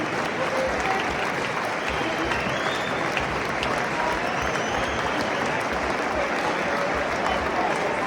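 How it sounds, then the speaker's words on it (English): Large stadium crowd at a Watford football match applauding the under-16 Professional Development League Cup winners, a sustained, loud roar of clapping and crowd noise lasting the full stretch. "let's all give them a huge round of applause as they show their under-16 Professional Development League Cup"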